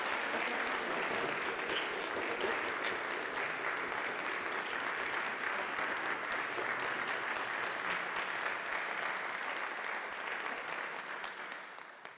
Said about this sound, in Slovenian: Hvala lepa, Andreja, en aplavz.